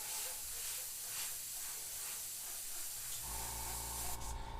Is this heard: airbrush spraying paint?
yes